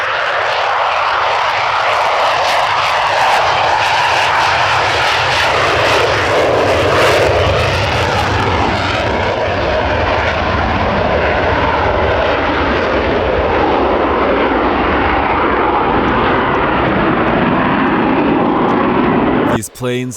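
A Royal Air Force plane takes off with a loud, sustained engine roar that stays close and powerful for the whole stretch, then cuts off abruptly at the end.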